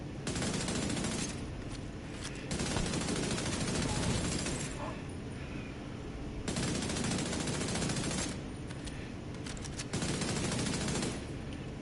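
Shots from a pistol loaded with fire rounds in a video game ring out as loud, sustained bursts of rapid gunfire that repeat in blocks with brief lulls between them.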